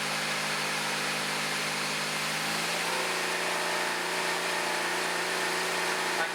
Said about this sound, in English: I can hear the engine change.